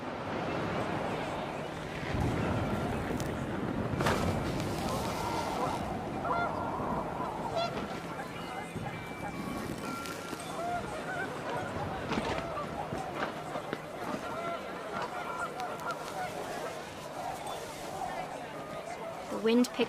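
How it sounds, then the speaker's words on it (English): Panicked geese honk in a windy outdoor scene from the video game What Remains of Edith Finch, a dense, continuous chorus of calls over a steady rushing background. "The wind picked up, and panicked geese appeared and quickly went."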